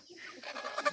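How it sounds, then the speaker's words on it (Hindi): Chickens cluck in a village setting among goats, a few soft, close clucks rising in a short burst, fairly quiet with no talk over them. "ये मुर्गियाँ भी है"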